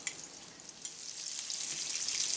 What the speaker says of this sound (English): Now as they're frying here